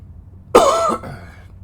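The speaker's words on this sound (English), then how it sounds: "I am feeling a little bit better, but the cough is persistent" One harsh, close cough bursts out and fades into a brief breathy tail, loud against an otherwise quiet background.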